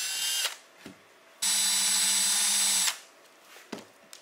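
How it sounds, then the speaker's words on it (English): A power drill whirs briefly, then runs steadily for about a second and a half drilling holes in a carbon fiber paramotor propeller, with short clunks and handling noises around it. "So here I'm drilling the holes."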